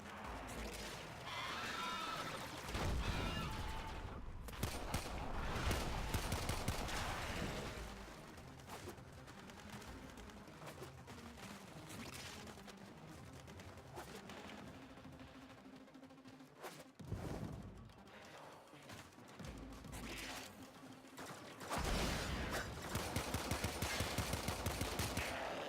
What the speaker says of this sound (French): Ouais, un petit pistolet.